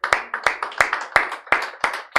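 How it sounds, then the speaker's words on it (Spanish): Rhythmic clapping from a church congregation, sharp evenly spaced claps about three per second, fairly close and loud, with no talking. "Denle un aplauso a Jesús"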